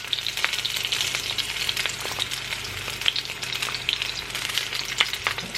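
Sausages fry in a pan with a steady bright sizzle and crackle, small pops scattered throughout, continuous and close with no talking.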